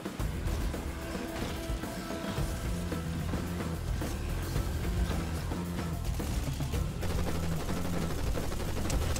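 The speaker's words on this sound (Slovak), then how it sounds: "A strieľajú po nás!" Dense gunfire rattles through a Fortnite match in repeated bursts and cracks over a busy, constant background mix. No one speaks.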